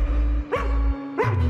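A small dog gives two sharp barks roughly two-thirds of a second apart, close and loud, against a low steady background hum with no talking.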